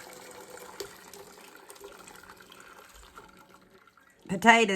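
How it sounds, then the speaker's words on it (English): Boiled russet potatoes are drained, with faint drips and trickles at first and then a louder rush of pouring water in the last half second. "And I'm draining my potatoes"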